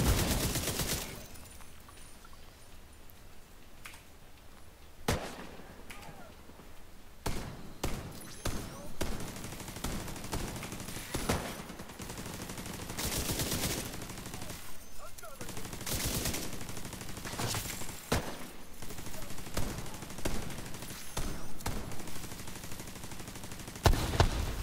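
Rapid automatic gunfire bursts from The Division 2 shooter game, with a player talking over the combat as repeated volleys and sharp single shots come and go, loud and close throughout.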